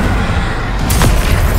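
An Incendio fire spell blasts off in Hogwarts Legacy, a dense low rumbling boom with a sharp crackling burst near the middle, loud and continuous over a game-battle backdrop.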